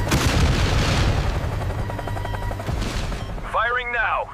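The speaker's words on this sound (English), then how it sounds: "Firing now. Missile away." Naval weapons fire during a US-Japan RIMPAC live-fire drill, with heavy booming blasts and roaring launch noise building through the clip, then a bright whooshing sweep near the end; radio chatter runs underneath.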